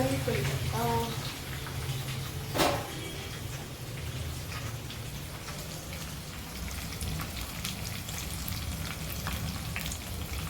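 Green chillies, mustard seeds and curry leaves fry in hot oil for a tempering, making a dense, steady crackling sizzle like rain that holds for the whole stretch. A voice talks over the frying early on.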